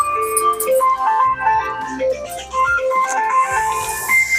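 A melodic electronic ringtone plays a bright repeating tune, loud and close, looping continuously with no voices over it.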